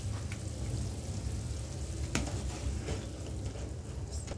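Gram flour stirred into boiling salted water with turmeric and coriander in a pot for pithla, a continuous bubbling simmer with a soft scrape or two from the stirring, close and steady, with no voices.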